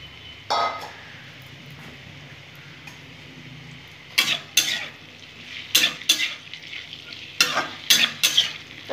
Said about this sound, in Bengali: এখানে যে আলুগুলো যে কেটে নিয়েছি, এই আলুগুলো ভেজে নেব।